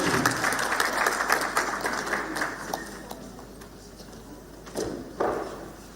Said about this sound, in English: Another round of applause for everybody as a genius.